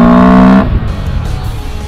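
A motorcycle fitted with a modified air filter gives one loud, close, droning rev that cuts off abruptly after about half a second, leaving a low rumble.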